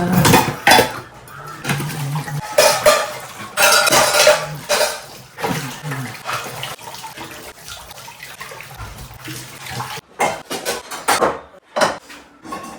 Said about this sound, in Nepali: म भाँडा मात्छु पहिला